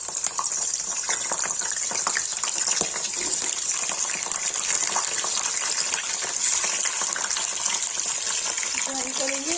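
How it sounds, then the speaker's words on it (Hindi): Tomatoes fry in hot oil, giving a steady, bright sizzling hiss that runs unbroken from start to end, close and moderately loud, with a faint clink near the end. "टमाटर डाल के ये इसकी फ्राई करेंगे तेल में। तेल गर्म हो गया है।"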